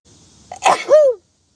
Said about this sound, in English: Alright, that was a big sneeze.